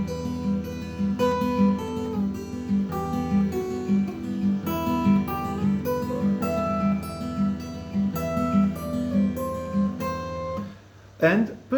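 A steel string cutaway acoustic guitar plays a continuous fingerpicked pattern of bright, ringing notes, close and steady, fading into a few scratchy string noises at the end.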